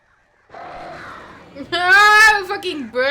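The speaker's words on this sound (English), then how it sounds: "Ah, fucking birds!" Crows caw in the Alan Wake video game, a loud, harsh burst that swells midway and mixes with a voice speaking over it.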